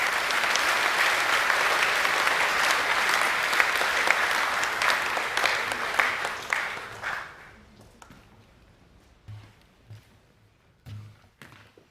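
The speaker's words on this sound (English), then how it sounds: "Please affirm the Year 11 Academic A+ winners with a round of applause." A large school assembly crowd claps for Year 11 academic award winners in a loud, dense round of applause that thins out over several seconds into a few scattered claps and thumps.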